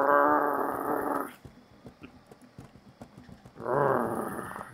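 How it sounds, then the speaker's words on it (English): An animal character lets out deep, rumbling happy growls: a long, throaty growl, then a pause filled with soft ticking clicks, then a second growl, all close and clear. "His throat thunders with happy growls."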